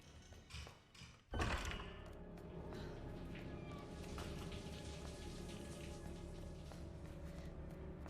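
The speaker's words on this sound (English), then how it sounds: "It is always raining in Raccoon City." Steady rain falls in Raccoon City in the Resident Evil remake, a dense wash of drops with a thud near the start, then constant patter continuing alone and fairly quiet.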